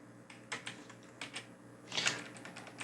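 Computer keyboard keys clack in scattered single presses and small bursts, like shortcut keystrokes for copying and pasting, close and fairly quiet with no voices.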